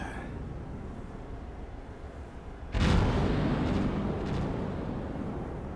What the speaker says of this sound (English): the 5-inchers have opened up